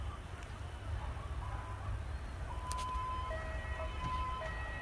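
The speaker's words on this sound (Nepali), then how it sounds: "उद्धारका लागि आएका एम्बुलेन्सहरु" Ambulance sirens wail steadily at the scene of a US-Bangla Airways plane crash rescue at Tribhuvan International Airport in Kathmandu, rising tones sounding over a constant low rumble of crowd and engine noise.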